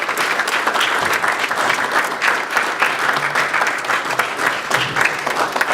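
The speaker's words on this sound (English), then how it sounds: "let's give her a resounding round of applause" A resounding round of applause for Mariam Mola at a hosted event, loud and sustained clapping from a large crowd with a few voices mixed in.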